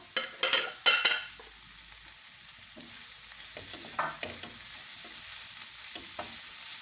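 Grated carrot being stirred into frying pepper and onion for a pastry filling, with a few sharp scraping stirs at the start followed by a soft, steady sizzle close by and no talk.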